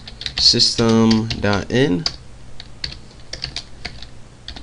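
Typing code on a computer keyboard: quick, light key clicks in scattered bursts, heard mostly after someone speaks in the first half.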